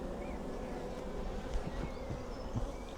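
Honey bees buzz around open hives, a steady dense drone of many wings close by, continuous and without talk.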